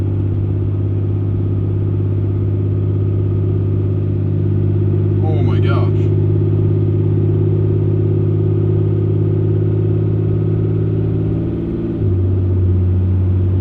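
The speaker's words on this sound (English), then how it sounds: "I can already hear the turbo now" A Cummins diesel truck fitted with a cold air intake drives through a tunnel, its loud, steady engine drone filling the space while someone briefly exclaims partway through.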